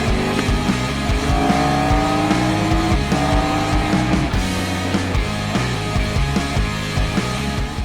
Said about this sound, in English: When I open up that throttle and I let it run properly the way it's supposed to, it just goes